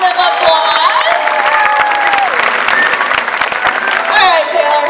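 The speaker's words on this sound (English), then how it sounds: "Everybody give him a big round of applause." A SeaWorld San Diego sea lion show audience claps and cheers for a sea lion, loud and sustained throughout, while an announcer's voice talks over the applause.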